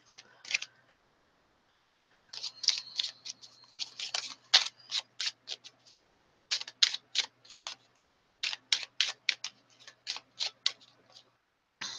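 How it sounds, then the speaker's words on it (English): Lenormand cards being shuffled by hand in several bursts of quick crisp riffling and snapping, separated by short pauses, close and fairly quiet with no talking. "you guys heard me shuffling, right?"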